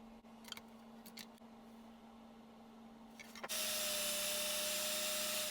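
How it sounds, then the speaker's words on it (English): A small drill boring into a guitar body during a doubleneck guitar build: a few faint clicks and taps first, then the drill abruptly starts with a loud, steady whine that holds to the end. "Then I'm going to drill down with a small drill and look on the back side, and then route it out from the back"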